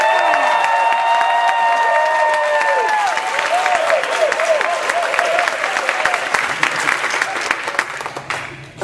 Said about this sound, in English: so applause for Marco